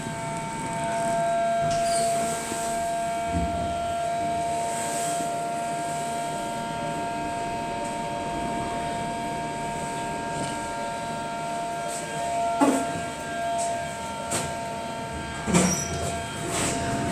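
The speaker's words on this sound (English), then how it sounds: "This has the most noisy fan I ever heard." A very noisy ventilation fan inside a lift at Ostend station hums steadily with a constant tonal whine and broadband rush, with occasional faint clunks and no voices.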